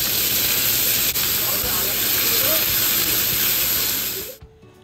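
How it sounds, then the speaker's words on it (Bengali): Chicken and vegetables shallow fry in a little oil in a wok, giving a steady, loud hiss and sizzle that continues almost to the end and then cuts off abruptly. "কড়াইয়ে খুব সামান্য তেল দিয়ে শ্যালো ফ্রাই করে নেব চকর চিকেনগুলো"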